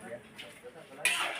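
Vegetables stirred in a pan while cooking pancit, soft metallic scraping and clinking of a utensil against the pan, brief and moderately close, sharpening into a brighter scrape near the end.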